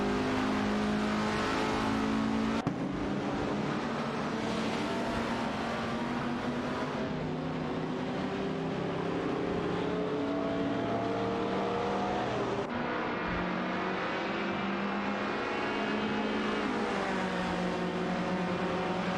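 Race cars battle closely, an Alpine A1 1800s and a Lancia Stratos HFF, their engines roaring and revving continuously with shifting pitch as they pass, loud and dense throughout, with no talking.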